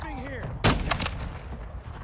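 A heavy impact and crackling gunfire in Warzone 2, a sharp loud burst followed by scattered shots, with a voice speaking just before the blast.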